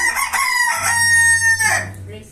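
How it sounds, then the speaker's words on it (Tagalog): A rooster crows loudly and close, one long drawn-out cock-a-doodle-doo with a rising start and a sustained, wavering tail. "It's a chicken."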